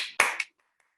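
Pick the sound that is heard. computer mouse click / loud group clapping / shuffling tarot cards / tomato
loud group clapping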